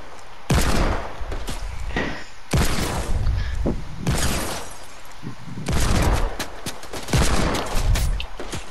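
Rapid bursts of Desert Eagle pistol fire in Fortnite, loud and close, in several clustered volleys separated by short gaps, with sharp cracks and booming low end.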